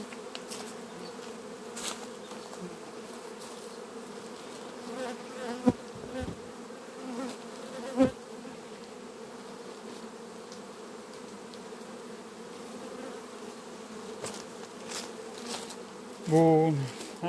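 Honeybees at a hive in September drone in a constant close buzz, with individual bees passing nearby and a few light knocks of handling the frames over the steady hum.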